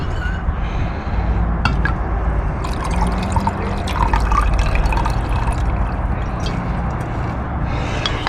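Liquid poured off a clump of refined gold jewellery scrap in a container, a steady close trickle and splash with faint clinks of glassware throughout.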